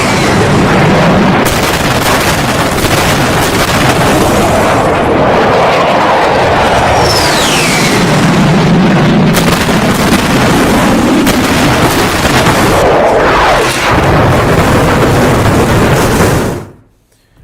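Loud, sustained roaring rumble of a bunker buster bomb effect dropped from a B-2 bomber, with dense blasts and whooshing layered throughout before it cuts abruptly to silence at the end.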